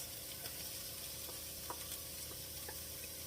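Carrots dropped into a pan of softened onions with a pinch of salt while making bolognese sauce give a faint, steady sizzle of frying with small scattered crackles, and no talking.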